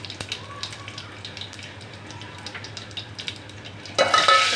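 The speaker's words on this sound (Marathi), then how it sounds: "कढीपत्ता टाकूया त्याच्यानंतर एक चमचा जिरं टाकूया" Curry leaves and cumin go into hot oil for a Satara-style spicy dal. A quiet low sizzle with light stirring bursts into loud, crackling spattering near the end.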